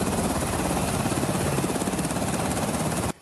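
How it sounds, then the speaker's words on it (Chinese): A National Airborne Service Corps rescue helicopter lands at a village helipad in Xinyi Township, its rotor producing a loud, close, continuous throbbing roar that fills the whole stretch before cutting off abruptly at the end. "空勤总队的直升机将三名登山客的遗体载运到新义"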